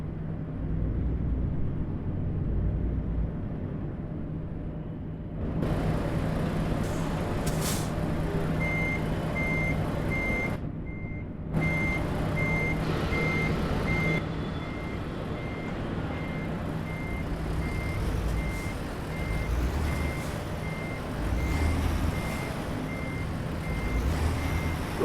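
In American Truck Simulator a truck backs up with a steady string of high reversing beeps that carries on for a long stretch. A loud diesel engine rumbles underneath, and a short hiss of air brakes cuts in partway through.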